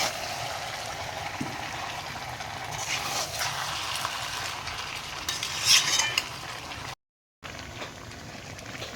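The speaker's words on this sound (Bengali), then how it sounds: "এখন দিয়ে দিচ্ছে লবণ, আবার একটু নাড়িয়ে নিচ্ছে মা।" Red chili powder and salt stirred into a cooking pan by a woman, with soft utensil scrapes over a low sizzle, a brief louder stir near the end and a short gap of silence.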